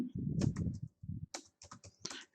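Rapid clicking of keys on a computer keyboard while a freelancer profile is typed, quick uneven bursts of taps close by, after a brief low rumble at the start.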